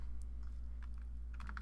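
Keys pressed on a computer keyboard for a Ctrl+T shortcut while editing an image, a few faint scattered clicks followed by a quick cluster of taps near the end over a steady low hum, no talking.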